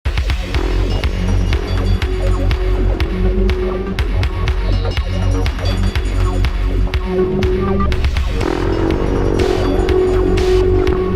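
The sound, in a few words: synthesizer with big reverb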